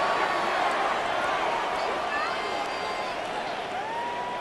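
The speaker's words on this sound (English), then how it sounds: "Some boos coming down right now from this home crowd after that call" A home crowd at a Madden NFL 26 simulated NFL Wild Card game between the Chiefs and Patriots boos after a penalty call, a steady, dense wall of stadium crowd noise lasting throughout.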